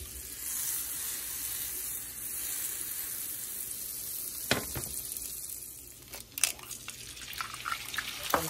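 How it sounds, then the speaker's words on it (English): Eggs fry in a little butter in a pan for a bacon-and-eggs breakfast, producing a steady soft sizzle throughout, joined late by a few brief clinks and scrapes of a utensil. "Now we're doing the eggs, a little bit of butter."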